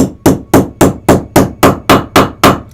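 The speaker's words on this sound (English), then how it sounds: "I'm going to use my punch, and I'm going to tap it with my hammer" Hammer tapping a metal punch through material to make rivet holes, ten sharp, evenly spaced strikes about a quarter second apart, loud and close with no voices.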